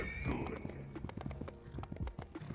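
Rapid clip-clop of a galloping horse's hooves in a video game, close and rhythmic, with a brief whinny and game background sounds.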